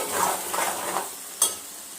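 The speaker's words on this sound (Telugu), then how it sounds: "ఇప్పుడు ఒకసారి కలిపేద్దాము. మాడటానికి అవుతుంది. కర్రీ మొత్తము దగ్గరికి అయిపోయింది." A spoon stirs thick Telangana-style gongura boti curry in a pan over low heat, giving a few soft scraping strokes over a quiet sizzle, then one sharp clink.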